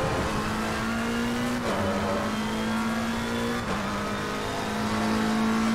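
Ferrari GT race car engine in Assetto Corsa Competizione at Misano, a loud sustained engine howl with brief dips at gear shifts before pitch climbs again, accompanied by faint tire noise.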